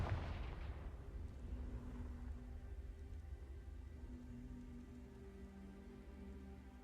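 A Confringo fire spell blast in Hogwarts Legacy: one sharp burst at the start that fades into a low, rumbling crackle and lingering hum.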